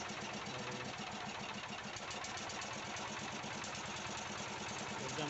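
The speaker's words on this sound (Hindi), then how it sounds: "इंजन स्टार्ट हुआ है।" Small engine with a piston fitted with a nozzle, freshly started by a single pull of the handle and running steadily at an even pace, with a continuous loud mechanical chatter and rhythmic knocking throughout.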